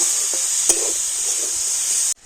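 Jaggery filling for pitha is stirred in a hot pan, giving a steady close hiss and sizzle with a few soft scrapes of the spoon, cutting off abruptly at the end.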